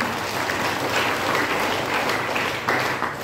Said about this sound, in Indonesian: Sekali lagi kasih tepuk tangan untuk Tuhan.